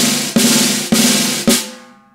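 A slow nine-stroke buzz roll on a snare drum: four connected buzz strokes, each starting with a fresh attack, ending with a short tap that rings out.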